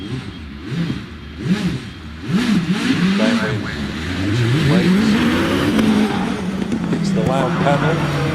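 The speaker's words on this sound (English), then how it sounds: "First to the line is Graham Wynn. The Gould GR59J" A Gould GR59J hillclimb race car accelerating on a British hillclimb course, engine note climbing through gears with rising and falling revs, growing louder toward the end while a commentator talks over it.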